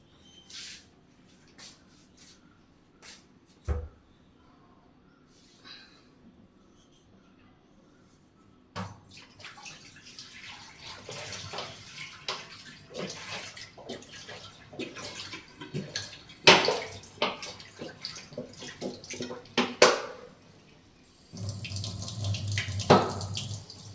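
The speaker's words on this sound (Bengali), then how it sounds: "আমি বোতলে জল ভরে নিই" Water runs from a tap into a bottle in a kitchen, heard as intermittent faint splashes at first, then a steadier nearby pouring and gurgling stream with clatter, growing louder toward the end.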